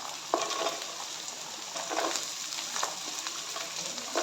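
Beans, carrot and capsicum frying until golden brown in a pan for street-style vegetable noodles, a constant close sizzle broken by sharp scraping taps of a spatula stirring.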